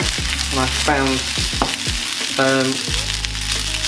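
Vegan beef mince sizzles and crackles in a hot pan, a loud, close, steady fry broken by scraping stirs of a spatula, with a voice speaking briefly over it.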